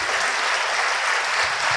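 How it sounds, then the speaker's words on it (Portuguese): A church congregation applauds for Jesus during a sermon, a dense, steady wash of many hands clapping together, loud and close, with no talk over it. "vamos dar uma salva de palmas para Jesus"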